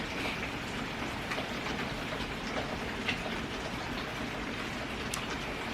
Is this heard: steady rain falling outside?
yes